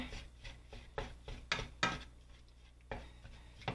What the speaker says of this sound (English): Mix that seasoning in.